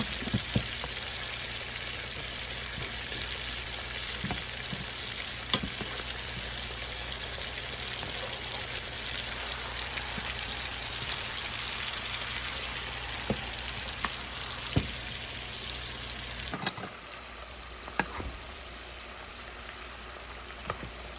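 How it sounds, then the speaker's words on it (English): Salmon sizzling steadily in a pan as it is basted with honey and butter, a dense crackling hiss that runs on without a break, with occasional sharper pops and light scrapes near the end. "I'm going to baste this salmon with this honey and butter"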